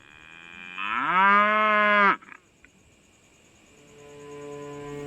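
A single loud, drawn-out cow moo rising and then cutting off, followed by quieter background hum.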